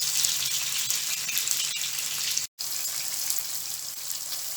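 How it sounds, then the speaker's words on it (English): Green chili and tomato fry in a hot pan while being stirred, giving a steady, loud, close sizzle with a brief cut in the middle and no voices. "we can add in the green chili and the tomato. Stir in until the tomato is soft"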